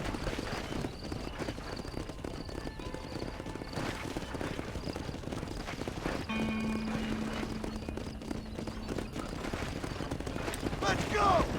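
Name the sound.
horses galloping in video game Red Dead Redemption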